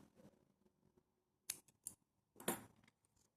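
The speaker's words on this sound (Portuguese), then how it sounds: "já podemos cortar nosso fio" Scissors snip through yarn while making a crocheted amigurumi, giving three crisp close cuts in a quiet room: a single snip, another just after, then a louder final cut.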